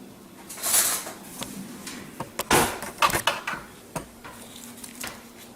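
A spoon clinks and taps against a pot as brew enhancer is guided out, a few sharp metallic knocks scattered over a quiet kitchen background with no voices.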